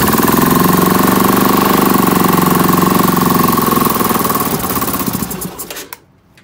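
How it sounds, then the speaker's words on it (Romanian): A CF Moto 500 engine runs loudly up close after starting, with a fast, steady mechanical chatter and drone that holds for several seconds, then falters and dies away to near silence. "Ok, încercăm să-l pornim."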